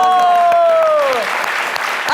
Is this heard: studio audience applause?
yes